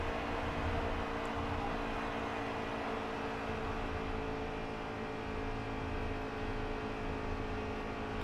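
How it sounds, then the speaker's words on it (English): A NASCAR Heat 3 race truck at Michigan runs a continuous steady engine drone through a corner with dense wind and tire noise, the pitch holding low without a clear rise. "You can hear that engine bog down center of the corner"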